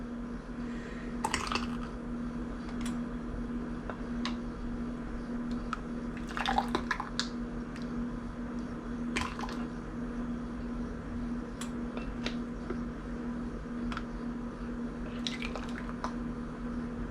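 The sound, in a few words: filling canning jars with tomatoes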